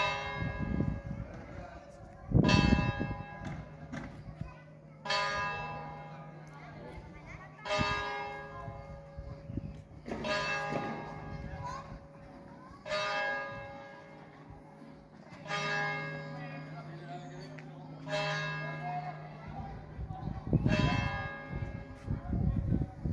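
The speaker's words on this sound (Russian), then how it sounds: "Знаменитый колокольный звон церкви в Сантильяно-дель-Мар" Church bells of the church in Santillana del Mar ring out in a slow series of resonant strikes, each chime lingering and fading before the next, with a faint voice at times.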